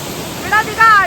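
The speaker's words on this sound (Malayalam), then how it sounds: "ഈ കണ്ട നമ്മുടെ വട്ടായി വാട്ടർഫോൾസ്" Vattayi waterfall in Thrissur, Kerala: a continuous rush of falling water. Two short voiced sounds rise briefly above the steady roar.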